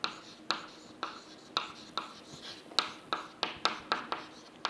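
Pen strokes on paper as stationary points are written out by hand, a regular series of quick scratchy taps and short strokes, close and clear with no talking.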